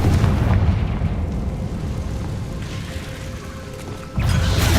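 Confringo fire spell explosions in the video game Hogwarts Legacy, a sustained loud rumbling blast with low booming energy that dips briefly before another heavy burst hits near the end.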